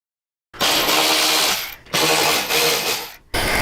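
A power tool whirs in several bursts as bolts come out of the radio frame on a 2015-or-newer Road Glide's inner fairing, with loud close runs separated by brief pauses.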